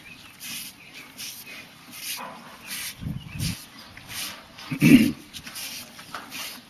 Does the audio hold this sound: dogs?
yes